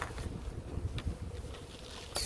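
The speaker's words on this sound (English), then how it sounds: "Sounded like there was bees" Bees buzz faintly around a beehive, a low continuous drone with a few brief louder passes close by and a sharp noise at the end.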